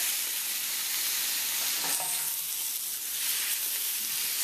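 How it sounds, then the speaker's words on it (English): Curry shrimp and marinade sizzle steadily in a pot while being stirred, a continuous close hiss of frying with a few faint scraping clicks near the middle and no voices. "I'm just going to give this a good stir"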